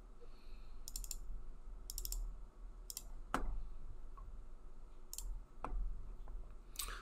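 A computer mouse clicks sharply several times while 3D modeling software is operated, with brief clustered taps spaced irregularly against a quiet background hum, close and without talking.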